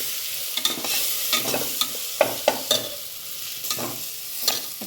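Green chillies frying and being stirred in a pan for soybean khichdi: a steady sizzle with repeated sharp scrapes and clinks of the spoon at an irregular rhythm, close up, with no talking.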